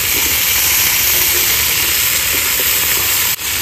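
Carrots and cauliflower fry in a pan, giving off a loud, dense, unbroken hiss and sizzle up close, with a brief dip near the end and no voices.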